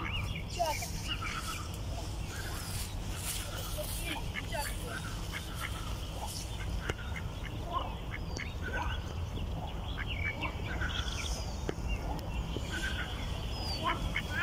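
Ducks with their ducklings in a city park, with soft quacks and small calls scattered over a steady outdoor background, while people talk nearby throughout.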